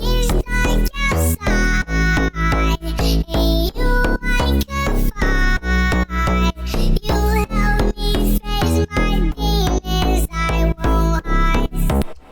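Dense, pumping slap house track with a pitched-up acapella vocal line soaked in reverb over steady bass, ducking rhythmically throughout.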